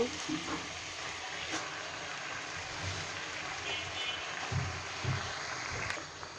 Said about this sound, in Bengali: তোলার পর এটা আমরা পালং শাক দিয়ে দেব